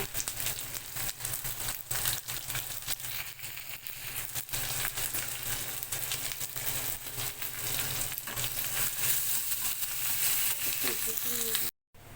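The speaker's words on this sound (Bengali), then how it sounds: "পেঁয়াজগুলো ভাজতে থাকি মধ্যে একটু লবণ দিয়ে দেব" Chopped onions with a pinch of salt, added to a pan after dried red chillies, frying with a continuous loud sizzle, stirred now and then, before a brief drop-out at the very end.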